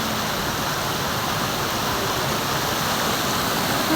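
Steady, loud rushing of flowing water, a dense continuous wash like a stream or small cascade close by, with no voices.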